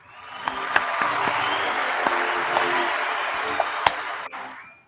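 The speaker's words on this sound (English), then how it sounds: "Another round of applause for Mr. Colt" An audience at an advertising talk applauds for about five seconds, a dense wash of clapping that swells in and fades out, with a few sharper individual claps standing out near the front.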